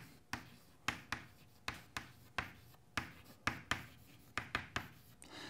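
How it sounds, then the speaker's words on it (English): A pen taps and scratches across paper in a string of about fifteen quick, close strokes at an uneven rhythm, each a sharp little tick with a soft rasp after it. "So that's another word I'm going to write down."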